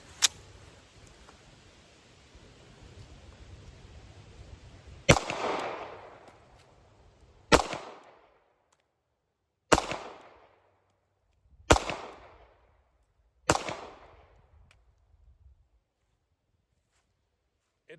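Five sharp .380 pistol shots, from a Ruger LCP Max and a Smith & Wesson Bodyguard 2.0, ring out one at a time at about two-second intervals. Each loud crack trails off quickly, and a steady hiss fills the first few seconds.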